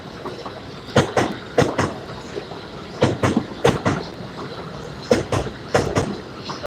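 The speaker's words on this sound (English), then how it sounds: "Oh, there's that Harrison train." Harrison commuter train on the Harlem Line passing Botanical Gardens station, steady rumble with repeated clickety-clack wheel beats over rail joints arriving in pairs, fairly close and continuous.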